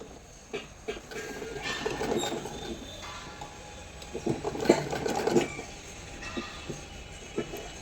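A sewing machine stitches the collar of a boy's night suit, running in uneven bursts of fast mechanical chatter over a constant background rumble.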